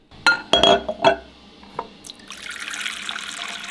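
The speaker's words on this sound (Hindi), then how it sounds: "मेरे पास बाउल है पानी डालते हैं इसमें" Water is poured from a tap into a bowl, in a few short splashy bursts at first, then a steadier, softer trickle as the bowl fills. It is close and there is no talking.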